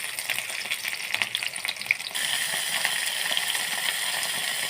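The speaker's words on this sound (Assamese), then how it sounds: "কেৰাহীখন পাতি তাত তেল গৰম হ'ব দিছোঁ। এতিয়া পিঁয়াজখিনি দিম তাতে।" Onions hit hot oil in a wok and sizzle in a steady close crackle, with scraping stirring at first before the frying settles into an even, continuous hiss.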